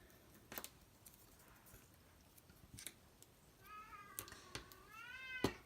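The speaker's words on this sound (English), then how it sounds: "My cat, I swear there's not one video where my cat doesn't meow like a crazy cat." A house cat meows twice in quick succession near the end, rising, drawn-out cries over a quiet room with scattered sharp taps and clicks from crafting work.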